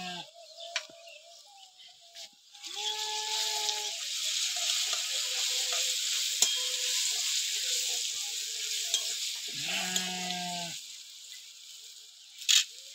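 Onions sizzle and fry in hot oil with ginger-garlic paste added, stirred in a pan for a spicy chicken dish; a steady close sizzle runs throughout, with clinking stirring strokes and a brief louder scrape near the end.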